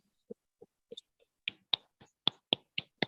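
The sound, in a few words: online meeting participants clapping to welcome speaker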